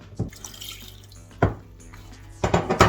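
Water poured into a pot holding beef, lemongrass and galangal while cooking beef Massaman curry, coming in short splashing bursts close by, with a longer pour at the end.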